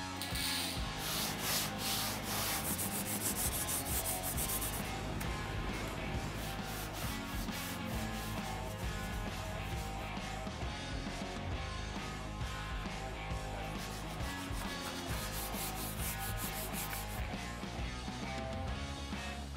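High build primer being block sanded on the cab bodywork of a 1968 Chevy C10 pickup, a steady, close, continuous abrasive rubbing that never lets up.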